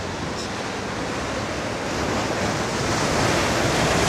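Ocean waves surge up onto the rocks around the Figure 8 tide pools, a loud, continuous roar of surf and rushing water that swells stronger as it goes, with wind buffeting the microphone.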